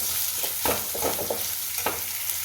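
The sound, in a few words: onions lightly frying in a pan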